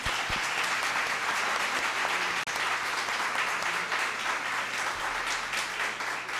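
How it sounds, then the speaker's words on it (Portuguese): Sustained audience applause for Ana Maria Carvalho after her conference at the 70th GEL Seminar, a dense, steady wash of many hands clapping at even loudness throughout, with no break except a brief dip midway. "Vamos bater palmas de novo para ela."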